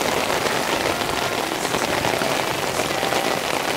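Heavy rain pours down steadily in a dense, continuous hiss with wind gusting through it, loud and close, with no voices.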